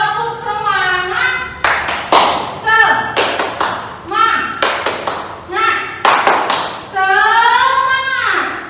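A class joins a rhythmic clapping chant, bursts of sharp claps in quick groups alternating with chanted and sung voices, loud and close.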